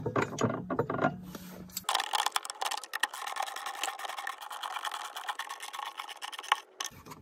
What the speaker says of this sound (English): Now we're going to grab our 13 millimeter deep socket